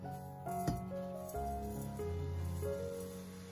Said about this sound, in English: I'll pour the sugar.